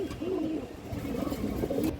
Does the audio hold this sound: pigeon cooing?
yes